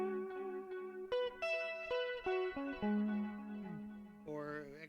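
A short pentatonic scale on the black keys, distinct piano-like notes rising and falling one after another, each struck clearly with a bright electronic, slightly effected tone.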